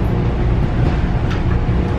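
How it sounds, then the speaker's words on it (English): Steady low rumble of an older passenger train interior during an hour-long regional ride with many stops, continuous and fairly loud with faint rattles, no talking. "this is a good train to have like an hour long ride on with a lot of stops"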